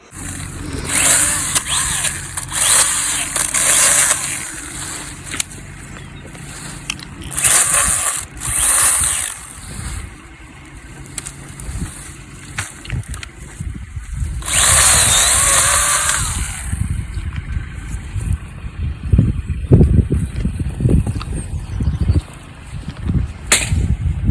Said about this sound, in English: she was having a play with my little mini chainsaw